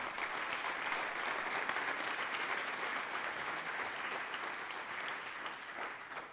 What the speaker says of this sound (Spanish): Dale un aplauso al que lo merece.